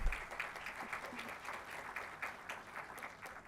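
Sustained applause from a conference audience, steady and moderately loud for several seconds, with a brief thump at the start.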